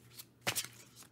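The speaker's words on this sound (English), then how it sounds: "So while I shuffle now" Tarot cards are shuffled close by in a quiet room, one crisp riffling burst in the middle with softer card flicks before and after.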